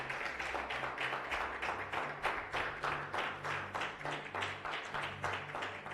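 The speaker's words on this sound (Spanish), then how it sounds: "Denle un aplauso fuerte," A church congregation claps together in a strong, rhythmic unison beat, fast regular claps repeating steadily throughout at a close, loud level.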